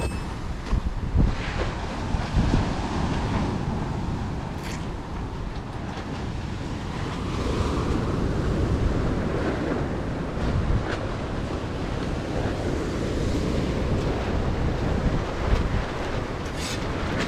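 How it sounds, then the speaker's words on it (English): Strong wind buffets the microphone at an outdoor house-building site in Antique, Philippines, a loud, continuous roar with gusty surges and low thumps that runs for the whole stretch with no talk. "Very windy, right?"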